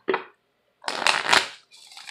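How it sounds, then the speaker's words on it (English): Oracle cards are shuffled in quick riffling bursts: one brief shuffle, a pause, then a longer, louder flurry and a softer trailing one, close up with no talk. "these oracles really need to be shuffled"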